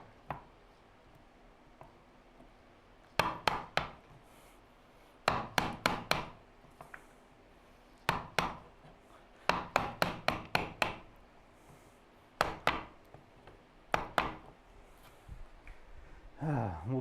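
Chisel work in wood while making bench hooks: clusters of sharp, quick taps and cuts, close but fairly quiet, separated by pauses with soft background noise.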